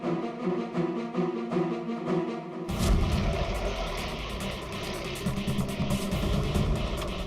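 A jeep drives at night: a quieter opening gives way to a loud, continuous engine rumble and road noise that carries on steadily to the end.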